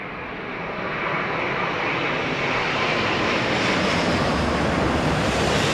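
A jet airliner on approach to land at London Heathrow runway 27R, a loud steady engine roar that builds slightly and holds throughout, with wind-like broadband rush and no talk.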